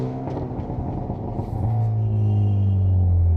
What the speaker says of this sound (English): I like how you can hear the air intake from the inside.